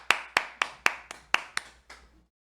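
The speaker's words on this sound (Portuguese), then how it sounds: "meus aplausos, aplausos." A few slow, deliberate hand claps ring out one at a time, about seven sharp strikes spaced evenly and fading slightly toward the end, close and clear with no voices.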